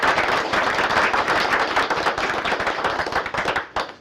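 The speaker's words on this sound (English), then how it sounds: "Gentlemen, please stand so that we can give you a round of applause." An audience at a college board of trustees meeting claps in sustained applause that is dense and fairly close, then thins out and fades near the end.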